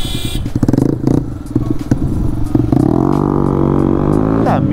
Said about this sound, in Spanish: En una moto monocilíndrica suena muy duro el tubo de escape